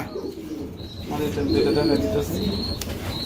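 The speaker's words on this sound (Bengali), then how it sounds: "এটা মাদি কবুতর বন্ধুরা দেখতে পাচ্ছেন স্পেশাল একটা মাদি" Female racing pigeon softly cooing and briefly flapping its wings close by, a low murmuring coo running under background chatter with faint chirps above.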